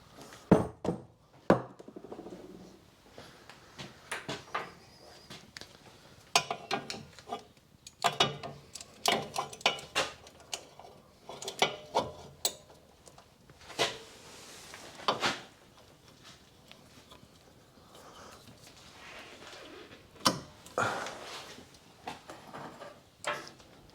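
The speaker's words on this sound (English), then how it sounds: "I will have to use a spanner on that one" A spanner works the bottom nut of an anti-roll bar drop link on a 2014 Mazda CX-5 2.2 diesel, giving repeated close metallic clicks and ratcheting taps in uneven bursts with no talk.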